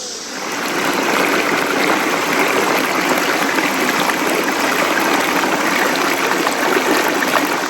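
Water rushes steadily in a nearby stream, a constant close gurgling flow without voices.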